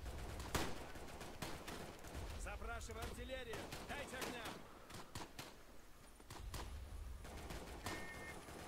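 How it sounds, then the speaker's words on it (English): Gunfire from the World War I shooter Tannenberg plays in Russian gameplay: scattered rifle and machine gun shots crack in bursts around a voice, with a fairly quiet overall level. "Getting shot at. That's not good."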